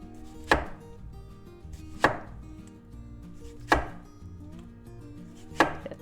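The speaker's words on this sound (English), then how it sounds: "Now we take a tomato and we slice it." A knife slices through a tomato on a cutting board. Four sharp chopping thuds land at even intervals, close and clear with no talking.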